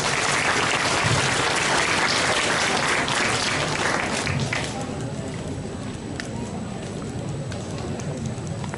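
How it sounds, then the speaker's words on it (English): Crowd applause at a county fair youth livestock auction, dense steady clapping filling the first half, then thinning to scattered claps and murmur under a loudspeaker-like hum. "Let's give them a round of applause."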